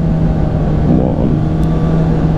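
A Kawasaki Ninja ZX6R motorcycle engine accelerates with a loud, close, steady high-revving drone and a continuous rushing of wind around it.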